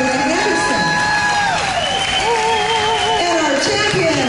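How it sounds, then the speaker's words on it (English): A crowd at a miniature horse show national championship claps and cheers for the reserve champion in a chariot driving class, with steady applause under a loudspeaker announcer talking. "And a round of applause for our reserve champion, Painted Deserts Macho Angelina"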